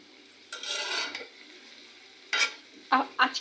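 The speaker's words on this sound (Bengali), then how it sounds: "আজকে একটা ভাজি বানাচ্ছি" Vegetable bhaji stirred in a frying pan, a sizzling scrape of the spatula followed by a short pause, then several quick stirring strokes with clinks against the pan, close and clear.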